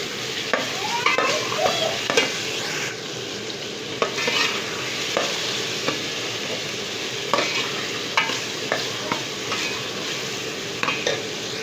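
Ground onions and potatoes fry in a pan for chicken karahi, a loud steady sizzle broken by repeated scraping stirs and clanks of a spoon against the metal.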